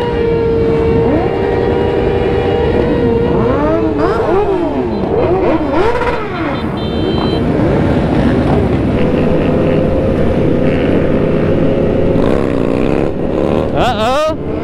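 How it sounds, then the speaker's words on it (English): Motorcycles doing burnouts and revving at a street bike meet in Houston, a loud continuous engine roar with rising and falling revs, with people talking over it. "Look at all these bikes. They doing burnouts."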